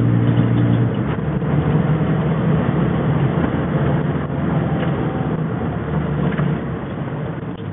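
A Morris Minor Traveller's engine hums steadily while driving, a continuous loud drone with road rumble and no talk.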